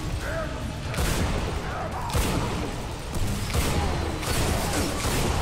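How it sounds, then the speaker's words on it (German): A weapon is reloaded in Bulletstorm, with a series of sharp mechanical clacks and bursts at roughly one-second intervals set against loud in-game ambience. "Nachladen."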